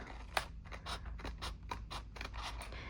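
Quiet, close scissor snips trim excess paper from a Happy Planner page, a string of short crisp cuts in irregular rhythm against soft room background.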